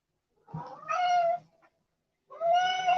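A cat meows twice, two drawn-out, tonal cries close to the microphone with a short silence between them and no other sound.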